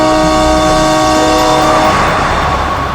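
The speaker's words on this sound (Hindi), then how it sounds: "हॉर्न पे हॉर्न मार रहा है।" A vehicle horn blares in a continuous, loud, sustained blast on a road scene, a steady tonal honk filling the whole moment without any talking.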